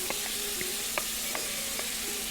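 Pieces of chicken sizzle in a hot, oiled pan, a steady close frying hiss broken by small pops and crackles, with no voices.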